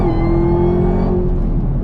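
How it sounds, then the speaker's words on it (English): A Camaro ZL1 engine under full throttle in traffic, a loud close mid-pitched roar holding one steady tone inside the car before easing off slightly near the end, with no talk over it. "So everybody just floors it just like that"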